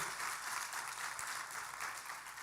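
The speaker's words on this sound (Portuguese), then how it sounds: "Dê um aplauso ao Senhor bem forte" A church congregation applauds the Lord in steady, dense clapping during a sermon, a continuous wash of hands heard from within the hall at moderate loudness.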